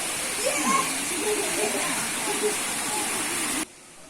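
Water rushes steadily from the sacred spring at Tirta Empul temple in Bali, a continuous broadband roar heard close by, with faint voices mixed in and an abrupt drop to quiet near the end.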